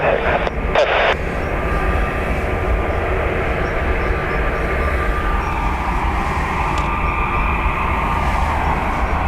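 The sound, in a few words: landing airliner's loud thrust reversers at Dublin Airport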